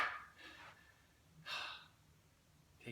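Slow, deep breaths during a guided self-healing session, two long soft exhalations a second or so apart, quiet and close with no talking.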